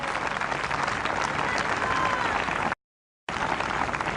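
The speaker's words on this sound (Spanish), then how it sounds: "Damos un aplauso de alabanza grande al Dios Todopoderoso" A congregation at an outdoor church event claps in sustained loud applause, dense and continuous, briefly cutting out before resuming, with voices mixed in.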